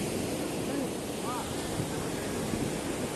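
Surf rolling onto a beach near VGP Marine Kingdom in Chennai, a dense continuous wash of waves mixed with strong wind buffeting, with a faint voice underneath.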